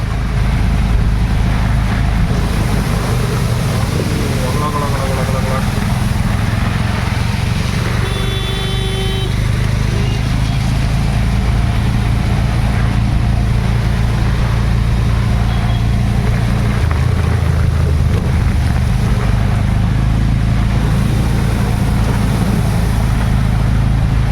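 An auto rickshaw's small engine rumbles continuously and loudly as it drives through heavy rain on a flooded road, water splashing, with a brief honk in the middle.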